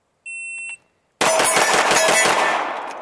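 Laugo Arms Alien pistol firing: a loud shot follows an electronic shot-timer beep, with several fast reports and a ringing decay, recorded close.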